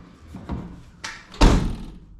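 A Mercedes 190E door shuts with a single solid slam, followed by a brief rattling buzz from inside the door panel, after a couple of lighter handling thumps before it closes.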